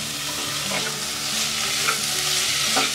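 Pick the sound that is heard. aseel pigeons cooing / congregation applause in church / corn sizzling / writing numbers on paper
corn sizzling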